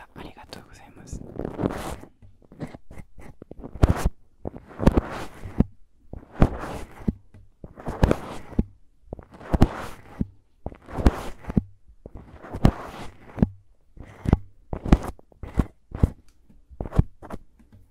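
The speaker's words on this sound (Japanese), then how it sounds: "この綿棒の音、送ってくれた方ありがとうございます。" A sharp-tipped cotton swab scrapes and rustles inside an ear in close binaural ASMR, making repeated crisp scratchy strokes about once a second with quiet gaps between them.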